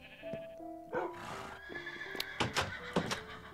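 A horse in Minecraft neighs several times, a series of bright whinnying calls with pitch-sliding tones, moderately close and heard alone.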